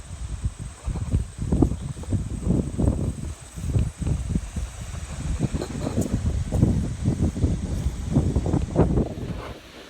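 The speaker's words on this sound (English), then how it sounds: "Very windy up here." Strong wind gusts on a hilltop buffet the microphone in uneven, rumbling waves, with a faint steady whine in the background and no voices.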